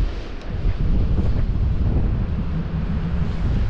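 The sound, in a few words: wind blowing at the beach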